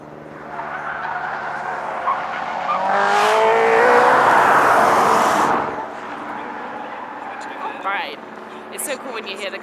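A Hyundai Ioniq 5 N race car drives uphill at Pikes Peak, its synthetic engine sound swelling loudly as it approaches and passes, with tire squeal, while people talk over it.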